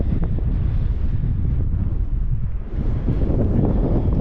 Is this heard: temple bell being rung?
no